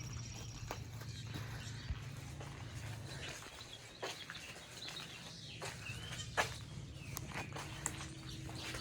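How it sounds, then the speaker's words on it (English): A horse moving about outdoors at a South Carolina state park, with soft hoof clops and occasional stamps over steady background noise, birds chirping faintly now and then. "And there's another horse over there."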